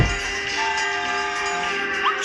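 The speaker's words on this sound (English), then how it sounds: "A train goes choo, choo, choo." Steady train noise with a sustained tonal horn or whistle over continuous rumbling, loud and unbroken throughout.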